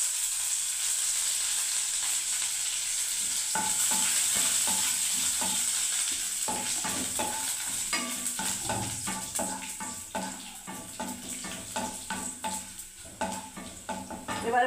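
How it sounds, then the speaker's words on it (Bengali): Curry leaves and garlic fry in hot oil with a bright, steady sizzle, soon joined by busy clattering scrapes and clicks of stirring against the pan that grow more uneven toward the end. "কারি পাতাগুলো দিয়ে দিচ্ছি।"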